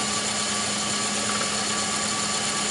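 A rotary encoder spinning at 1000 RPM gives a steady, continuous mechanical whir with a constant hum, loud and unchanging throughout, with no voices.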